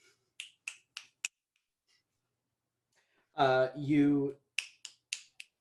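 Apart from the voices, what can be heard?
finger snapping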